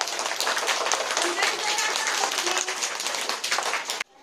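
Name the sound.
children clapping for a girl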